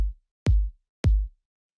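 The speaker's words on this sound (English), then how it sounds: "So it's just like a nice, punchy, kind of like simple drum machine kick." A punchy, simple drum machine kick sample hits three times, evenly spaced: short, deep, dry thumps that are loud and alone, with silence between them.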